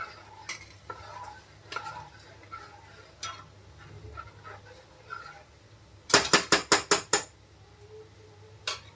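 Medu vada deep-frying in oil, a soft bubbling sizzle with scattered utensil taps and scrapes, then a quick run of six loud metallic clanks close together near the end; no talking.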